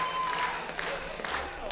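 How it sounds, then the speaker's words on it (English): At a live LWF Lancashire Riot wrestling event, an indoor crowd applauds and cheers loudly for the Lancadores, the LWF tag team champions. A commentator's voice sits under the steady clapping. "Oh, this crowd is absolutely bouncing for the Lancadores, the LWF Tag Team Champions."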